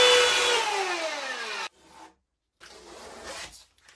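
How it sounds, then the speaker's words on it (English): Power sanding of mitered wooden face frames on a built-in sideboard cabinet, a loud whirring abrasive rasp with a falling motor tone that stops abruptly, then a short fainter burst of sanding, close and without talk. "all I'm doing here is sanding them down to get them level with the main cabinet"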